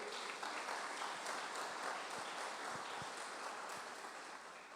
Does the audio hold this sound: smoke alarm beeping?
no